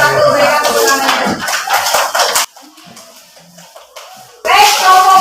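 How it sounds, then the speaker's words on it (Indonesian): Clapping from an audience after a group presentation, a dense burst of hand claps with chatter that drops away midway before more clapping and voices return. "Berikan tepuk tangan."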